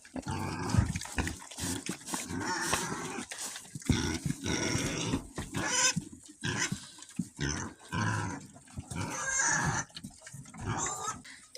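Farmyard pigs grunt, squeal and chomp noisily while being fed fresh green grass in a village yard, a dense, continuous, close-up jumble of oinks and chewing without speech.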